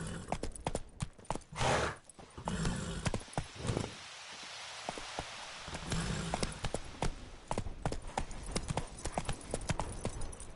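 Roach the horse galloping in The Witcher 3, fast clip-clop hoofbeats close and loud, briefly easing off midway before the rapid rhythm resumes, with no speech.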